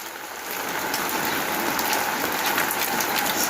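Heavy rain pours down outside a house with floodwater at the front, a dense, steady hiss of drops drumming on surfaces, loud and continuous throughout.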